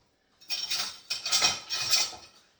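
A metal whisk rattles and clinks against a mixing bowl in three quick bursts of stirring while dry ingredients for skillet cornbread are blended, close and bright with brief pauses between strokes.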